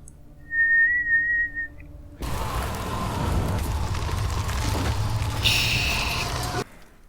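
A person whistles a single clear, sustained tone for about a second, loud and close. A broad rushing noise then takes over until the end.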